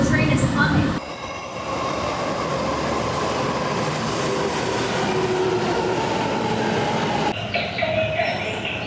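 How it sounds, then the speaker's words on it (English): A Tokyo metro subway train rumbles steadily through a station, loud and continuous with wheel noise and a faint squeal, the roar dropping away near the end. "So this is the metro station we need to be at."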